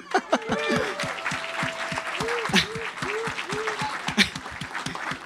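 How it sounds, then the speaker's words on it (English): An audience at a comics awards ceremony claps after a presenter's introduction, with scattered claps close by and a voice talking loudly over the applause. "a round of applause, Kevin Coppa."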